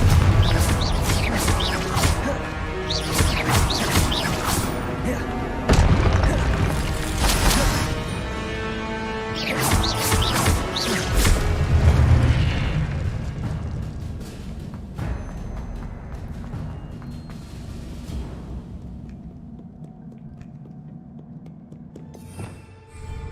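Confringo spell blasts in Hogwarts Legacy burst out as loud, crashing explosions in several heavy waves, then fade into a quieter rumbling tail.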